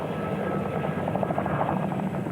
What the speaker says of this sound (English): were herded together by Chinook helicopters